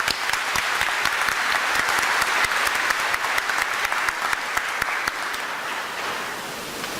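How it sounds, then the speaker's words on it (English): An audience claps for a teacher from Great Falls High School, a steady, dense round of applause holding evenly for several seconds before tapering slightly at the close. "let's give her a round of applause anyway"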